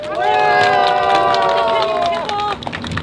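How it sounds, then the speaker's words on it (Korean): Crowd at a press conference on the April 15 general election applauds and cheers loudly and steadily for about two and a half seconds, with voices and whistle-like tones riding over the clapping before it fades. "우리 김재웅 대표께 다시 한번 뜨거운 박수 부탁드리겠습니다"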